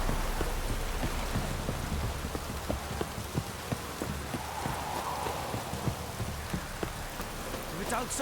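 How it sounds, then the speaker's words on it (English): Steady heavy downpour in the video game Witcher 3: Wild Hunt, dense hiss of rain on surfaces with scattered drips, and a horse's hooves clopping slowly alongside. "This downpour's a bastard, it is."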